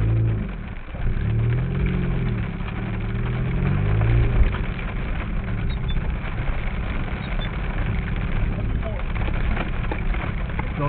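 A steady car engine hums and rumbles throughout while driving through a thunderstorm, with constant road noise and a slight rise in revs partway through.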